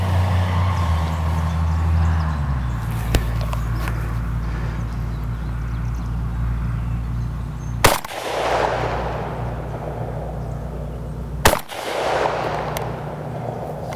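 Two loud, sharp gunshots fired at a target outdoors, spaced several seconds apart, each with a ringing echo that trails off over a constant low background hum.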